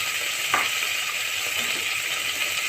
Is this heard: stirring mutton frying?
yes